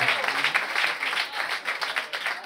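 Audience clapping at a live hair show event, a steady dense patter of applause filling the room, fairly close and continuous without pause.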